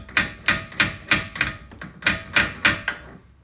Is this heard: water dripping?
no